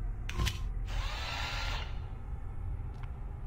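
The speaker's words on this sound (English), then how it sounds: "We use this little nifty drill we've got in here." A drill in the isometric horror game Stasis, a short whirring burst of about a second after a couple of clicks, set against a low mechanical hum with a faint tick afterward.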